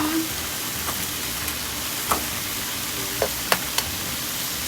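An egg frying in a hot pan for a bitter melon and egg stir-fry, giving a steady even sizzle with a few faint clicks and taps over it, close and fairly loud.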